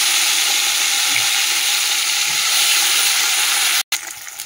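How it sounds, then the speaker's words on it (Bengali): Marinated fish frying in hot oil in a wok, a loud, steady sizzle and hiss that runs continuously, briefly cutting out near the end before resuming. "চলো মাছটা এবারে ভাজি।"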